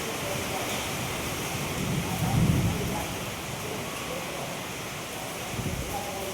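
First monsoon rain of the season lashing down at a depot, driven by gusty wind that shakes the trees, forming a steady, dense wash of noise with a brief stronger gust midway and no talking.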